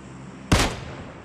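A single sharp, loud gunshot in the PUBG Mobile game, with a brief echoing tail over a low steady background hum.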